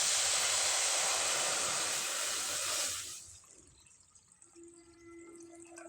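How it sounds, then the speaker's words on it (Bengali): Water rushes steadily into a wok on a stove, ready for boiling potatoes. The loud pour lasts about three seconds, then cuts off, leaving a quiet background with a faint steady tone. "কড়াইয়ে আমি পরিমাণ মতো জল ব্যবহার করলাম।"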